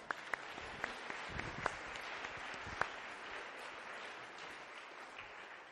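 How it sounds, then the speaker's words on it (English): Faint, distant applause from a church congregation, a steady wash of clapping with a few sharper individual claps standing out. "Please give them a big applause."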